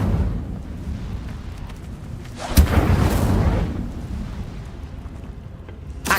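A fire spell is cast in the video game Hogwarts Legacy, giving a single loud burst with a crackling rush. The rush swells and then fades over a couple of seconds above a steady game background rumble.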